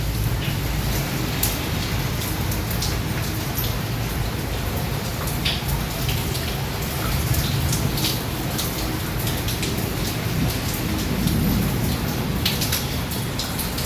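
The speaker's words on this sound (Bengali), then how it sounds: "কি জোরে বৃষ্টি হচ্ছে" Heavy rain pours down in a dense, constant roar on surrounding surfaces, close and loud throughout, with a faint low rumble of thunder in the background.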